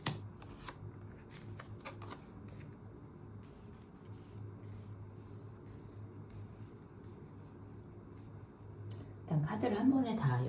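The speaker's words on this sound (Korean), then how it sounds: "일단 카드를 한 번에 다 열고" Tarot cards handled and flipped over on a table, a soft papery shuffling and sliding at low level through most of the stretch, with a louder burst of handling near the end; someone speaks quietly at times.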